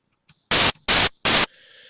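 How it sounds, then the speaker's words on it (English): White noise from the FL Studio 3x Osc synthesizer plays as three loud, even bursts of harsh static, each about a quarter second long and separated by short silences, close and alone. "insert 3 times oscillator, select white noise here"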